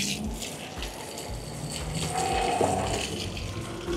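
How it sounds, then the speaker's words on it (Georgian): Spring water flowing in Armenia, a steady close gush of running water filling the whole clip at moderate loudness, with no talk. "აქ მოედინება წყალი"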